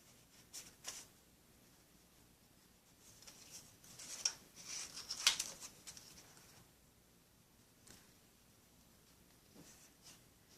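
Spring-loaded scissors snip paper in fussy cutting for a craft project, with faint, sparse crisp clicks and rustles spaced irregularly and a couple of slightly louder snips in the middle, close and quiet.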